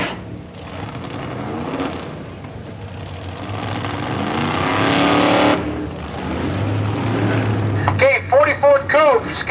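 An AA fuel dragster roars down the drag strip at a vintage drag racing reunion in Palmdale, a loud, rising engine blast that swells and fades with a distant, echoing quality, followed by a public-address announcer talking near the end.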